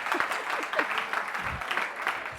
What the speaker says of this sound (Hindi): चलो भाई तालियां तालियां तालियां